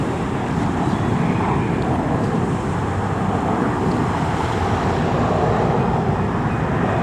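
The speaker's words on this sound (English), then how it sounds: "The plane taking off up in the sky." An airplane taking off somewhere over Los Angeles, heard as a steady, distant broadband roar blended with wind noise, continuous throughout with no voices.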